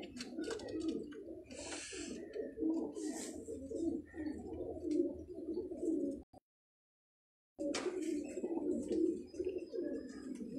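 Fancy pigeons kept by a Karachi breeder coo steadily in a dense, overlapping chorus close by, with brief chirps above, interrupted by a short silent gap before the cooing resumes.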